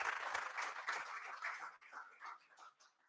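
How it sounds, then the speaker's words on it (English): Faint, thinning applause from an audience at a first-year engineering college induction program, tapering into scattered claps toward the end. "Again, a very big round of applause"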